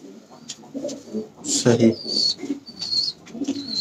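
Pigeons coo softly in a rooftop loft, a few low throaty calls rising now and then beneath a man's nearby conversation, along with faint higher chirps.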